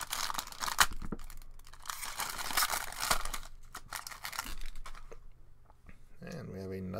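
Hockey card box packaging for a 2017-18 SP Game Used NHL case being cut open and torn, with crinkling plastic, tearing, and snipping sounds close up, under intermittent talk.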